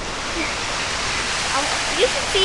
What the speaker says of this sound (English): Oh look, there's the waterfall drop.